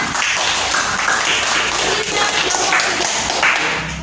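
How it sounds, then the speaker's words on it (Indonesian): Students applauding in a classroom give a sustained, even patter of clapping that fills the whole stretch, with faint voices mixed in. "Ya, tepuk tangan."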